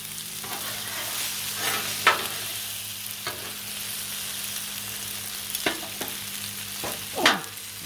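Turkey stir fry being mixed on a Blackstone griddle, a continuous close sizzle under repeated scraping strokes of a spatula against the hot flat-top, several louder scrapes standing out.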